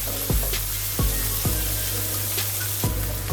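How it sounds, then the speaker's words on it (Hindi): Onions frying in masala for chicken biryani give a steady close sizzle, broken by a few short clanks of a spoon against the pan. "और फिर हम ये ऑनियन डाल देते हैं। ये ऑनियन को अच्छे से पकाना है लाल करके।"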